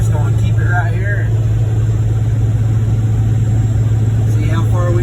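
A compound-turbo diesel pickup towing a large fifth-wheel trailer cruises at 2,200 RPM at night, its engine holding a loud, steady low drone from inside the cab, with brief faint chirps over it.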